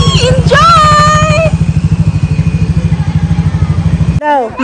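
Motorcycle engine idling near and loud with a steady low pulsing throb throughout the clip, as a Filipino family takes a child on her first ride, with brief voices and high-pitched sounds over it early on.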